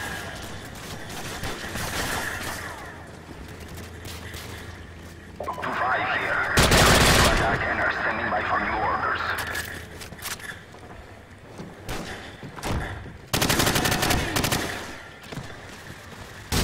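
Rapid gunfire from Call of Duty 4: Modern Warfare, with bursts of automatic fire and scattered shots crackling throughout, two loud dense volleys standing out near the middle and end against a steady battle din.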